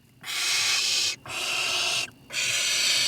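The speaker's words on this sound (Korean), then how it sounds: "왼쪽에 가장 왜소한 새끼새가 소리를 지릅니다." A barn owl chick screeches for food with three long, harsh, hissing calls in a row, each separated by a short gap, close and fairly loud with no talking.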